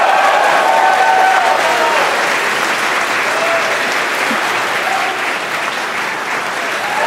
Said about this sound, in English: by the cheers in the crowd behind me